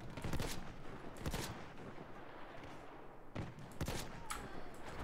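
A handful of heavy, booming shots from a sniper-like gun in Battlefield 1, widely spaced single cracks at moderate loudness with low rumble between them.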